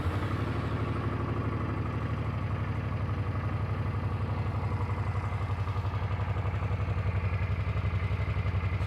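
A motorcycle engine turns over and runs in neutral with a steady, even pulsing throb and light mechanical clatter, close by and continuous with no voices.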